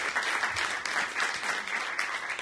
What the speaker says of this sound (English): I'd like to ask all of you to join me in a round of applause for my colleagues over here.